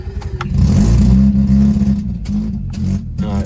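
A Mazda RX-8 engine revs hard in loud bursts, the pitch rising and dropping as the throttle is blipped several times up close.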